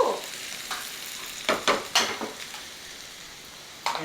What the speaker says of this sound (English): So now we're going to put onions in it